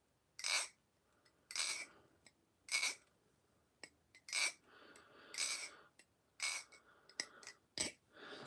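An LDY Aquatic balisong knife being flipped, giving a series of sharp metallic clicks and clacks in uneven bursts, close and crisp against a quiet room.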